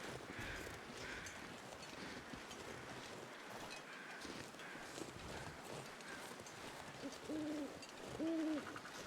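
Owls hoot in the video game The Long Dark on a windy night, with a few soft, distant hoots rising out of steady wind noise, the clearest pair near the end.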